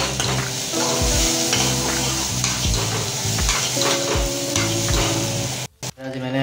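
Mixed vegetables for poha cook in a pan, making a continuous sizzle broken by stirring scrapes and a few low knocks, with a brief clatter of utensils near the end.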